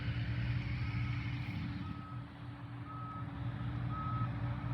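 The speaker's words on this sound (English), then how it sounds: "There's beeping going on at the milk plant." Construction vehicles reverse at a milk plant where a retention pond is being dug, sending out evenly spaced single beeps about a second apart over a constant distant engine drone outdoors.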